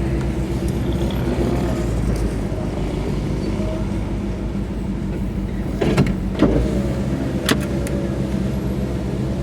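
Window of a 'Jimmy' being wound up as far as it will go while parked near a Toyota and a GMC, a steady drawn-out motor hum under loud engine rumble, ending with a few clunks and squeaks.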